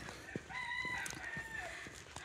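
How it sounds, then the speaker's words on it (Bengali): A rooster crows once in a long, drawn-out call at dawn around 4:30 a.m. in Kolkata, a little distant, over a faint background with a few soft knocks. "আর এখানে মুরগি ডাকছে"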